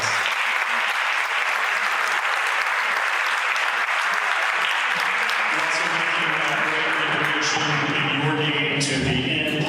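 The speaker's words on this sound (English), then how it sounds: "Let's give him another big round of applause." Audience applause fills a Rotary meeting in a sustained, dense clatter of clapping hands at steady loudness, with faint voices mixed in and the clapping thinning slightly toward the end.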